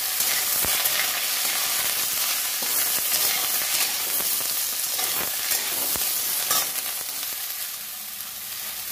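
Potato, eggplant, radish, dried red chillies and green chillies fry in hot oil for a spinach ghonto, a loud, steady sizzle with scattered crackles and stirring scrapes that eases slightly toward the end, no speech.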